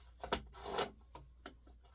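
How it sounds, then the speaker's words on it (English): Scissors trim excess cotton fabric from a pumpkin potholder quilt. The cutting is quiet and close, with a soft rubbing slice followed by a few faint, sparse snips. "So now we got to just trim off this extra fabric here."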